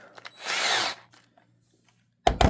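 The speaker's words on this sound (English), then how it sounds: "So I'm just going to go ahead and drill this hole." A power drill with a small tape-wrapped 3/64 bit bores a hole for a shock mount, one short whirring burst up close, followed by quiet and a couple of brief knocks at the end.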